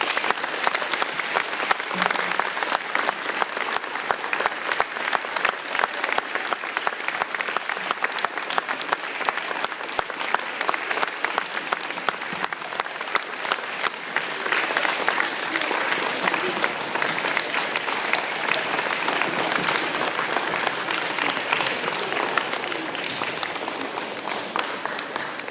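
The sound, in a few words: audience applause for Chris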